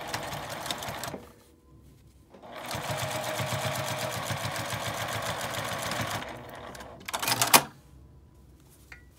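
A sewing machine topstitches along the edge of a lined fabric zipper pouch, running in two long steady bursts of rapid needle strokes with short pauses between, close and fairly quiet.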